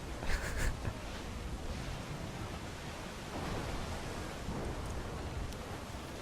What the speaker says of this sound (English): I don't know where the storm came from, but it's making sailing difficult.